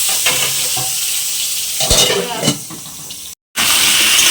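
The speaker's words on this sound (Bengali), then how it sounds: "এখানে আমি দিয়ে শুকনো লঙ্কা তেজপাতা ফোড়ন দিলাম" Dried red chillies and bay leaves tempered in hot oil for frying potatoes, a loud continuous close sizzle with scraping stirs, cut by a brief silent gap near the end.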